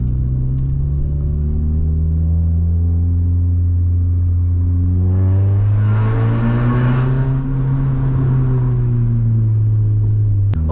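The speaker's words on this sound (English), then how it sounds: "So now I'll be shutting up so that you guys can enjoy some tunnel sounds, because one is near us already." Loud Hyundai Coupe Tiburon droning steadily through a tunnel, its engine note swelling and climbing as it accelerates midway, then easing back while the enclosed space adds a booming echo.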